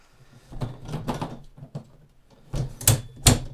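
Fold-out camping table popped open inside a toy hauler, a series of close clattering knocks and clacks ending in two sharp snaps.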